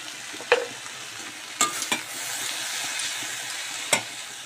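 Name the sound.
stirring vegetables with turmeric in a frying pan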